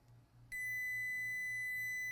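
A multimeter in diode mode gives a sharp, loud continuous beep on a shorted 12-volt line of a dead RTX 4080 Super graphics card, starting abruptly after a brief quiet hum and holding steady.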